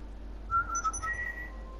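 A short whistled melody sounds inside the GTA Online video game, a few quick high notes rising and falling, fairly faint and distant, with no voices.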